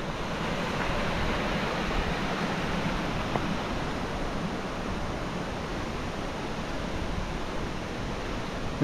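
The Ilomska river on Vlašić in Bosnia and Herzegovina rushes near a waterfall in a dense, continuous roar of flowing water, loud and steady with no pauses.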